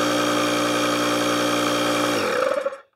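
Lokithor jump pack air pump running loudly with a steady, droning motor hum, then shutting off and winding down to silence near the end.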